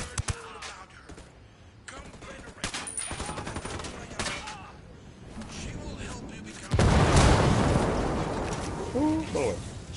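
Minigun fire in the shooter Ghost Recon, scattered bursts early then a loud sustained roaring barrage late, with voices talking over the action.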